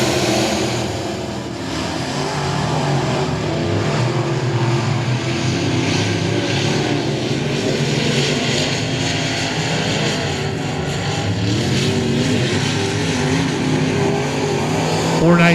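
Dirt track race trucks at the I-37 Speedway rev their engines as they take the green flag, producing a loud, continuous engine roar that fills the whole stretch, with an announcer talking over it.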